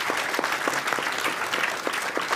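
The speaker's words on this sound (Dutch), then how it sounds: "En natuurlijk een hartelijk applaus voor het Tweede Kamerlid Hafsa Moederhoofd." An audience at a Dutch public discussion event applauds steadily for a member of parliament, a close, even burst of clapping from a modest crowd.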